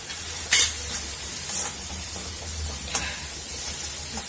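Curry masala sautéed in hot oil with ginger and garlic for a banana flower curry, a steady close sizzle with a few sharp scrapes and clinks of a spoon stirring the pan, no voices.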